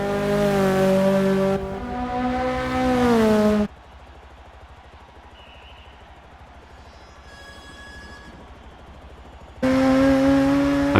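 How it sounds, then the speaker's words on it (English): A tuned Mazda RX3 in B-Class races around Bathurst in Forza 6, its engine revving loud and high with pitch sweeps through gear changes, dropping to a quieter lull before surging again. "me driving that Mazda RX3"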